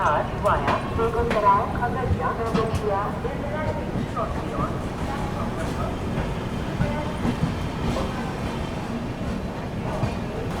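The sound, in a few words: Arunachal AC Superfast train departing Barauni Junction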